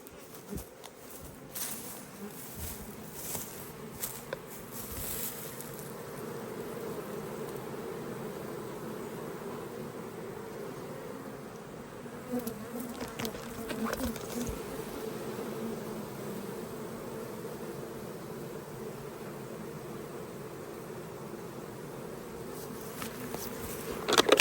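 Beehives swarm with steady, close bee buzzing that continues unbroken, with a few faint knocks and rustles along the way.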